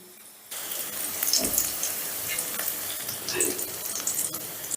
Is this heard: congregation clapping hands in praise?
no